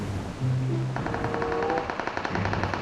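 Rapid automatic gunfire in the PUBG Mobile battle royale game, a loud continuous burst of shots lasting a couple of seconds over a steady game background.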